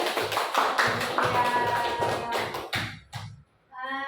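Children in a primary school classroom clap their hands together in a busy, uneven burst of taps with a low rhythmic thumping beneath, fading out near the end as a voice begins to speak.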